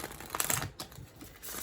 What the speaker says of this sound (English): Let me just do a quick shuffle of this.